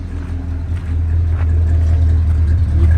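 The engine of a 1966 Bonneville with a 455 motor and dual exhaust idles up close with a deep, steady rumble, low and throaty, rising slightly in loudness partway through with no voices.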